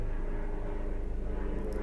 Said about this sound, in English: There goes planes, choppers over ahead as I'm doing October.